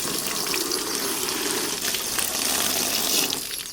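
Water gushes and splashes continuously during a washing, a close, steady rush of pouring liquid with small irregular splashes throughout and no voices.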